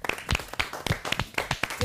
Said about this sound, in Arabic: يلا صفقوا حق فطومة مرة ثانية حيل حيل، صفقوا لها صفقوا لها